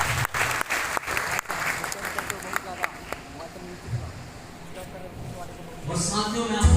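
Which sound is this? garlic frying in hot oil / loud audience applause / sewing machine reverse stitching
loud audience applause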